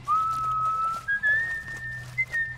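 A character in The Last of Us: Left Behind whistles a clear, sustained tune in long held notes with slight pitch steps, close and alone over a low background hum.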